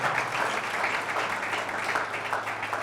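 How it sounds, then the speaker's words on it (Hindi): A church congregation claps together for the Lord during a Hindi-language worship service, a steady, dense spread of many hands with a low hum beneath. "क्यों ना जोर से प्रभु के लिए तैयार ताली बजाए"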